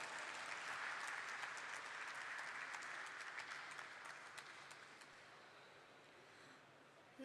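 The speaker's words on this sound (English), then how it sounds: "Let's give her a huge round of applause," Steady applause from an audience at a company listing ceremony, a dense wash of clapping at moderate distance that gradually thins out over several seconds.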